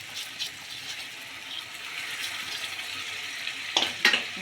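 Washed rice tipped into hot oil for tomato rice, giving a steady moderate sizzle, with a couple of brief scraping stirs near the end and no speech.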